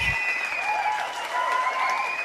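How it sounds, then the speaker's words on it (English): Audience clapping and cheering on a Friday night, a sustained wash of applause with a few whistles and shouts rising over it, steady and moderately distant. "Thank you for all the claps, cheers, and all that good stuff"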